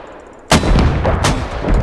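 Mortar barrage in the video game Squad: a loud blast at once, then a dense run of booming impacts and rolling explosions, with further heavy hits close together, no talk.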